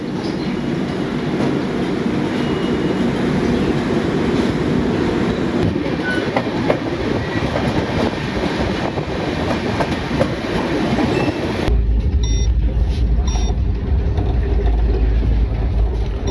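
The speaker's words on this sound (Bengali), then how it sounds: "আমাদের Puri Sealdah special train Bhadrak station থেকে ছেড়ে দিয়েছে" A Puri–Sealdah special passenger train running fast on the rails just after leaving Bhadrak station, with a steady loud roar and rumble of wheels throughout and a sharp change in tone near the end.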